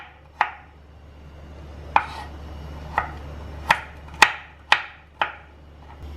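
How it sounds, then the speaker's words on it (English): A knife roughly chops tender coconut pieces on a board in seven sharp, irregular knocks spaced about half a second to a second and a half apart, close and clear over a quiet background. "So I've chopped the coconut into small pieces like this."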